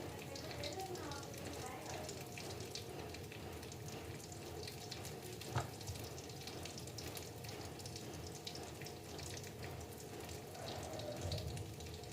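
Shami kabab patties fry in oil on a street-food stall griddle, a steady sizzle running throughout with faint clatter and distant voices around it.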